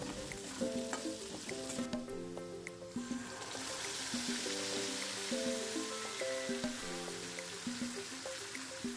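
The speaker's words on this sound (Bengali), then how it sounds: "এদিকে আলুতে একটু হলুদ একটু লবণ দিয়ে আলুগুলো ভালো করে ভেজে নাড়াচাড়া করে" Potatoes fry in a pan with turmeric and salt while a spoon stirs them, giving a soft continuous sizzle under repeated scraping and clinking strokes, close but fairly quiet.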